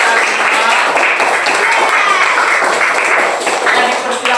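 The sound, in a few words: applause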